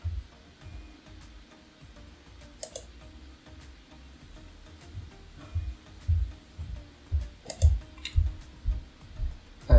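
Quiet, close keyboard typing on a computer, with irregular soft taps that grow denser and slightly louder toward the end.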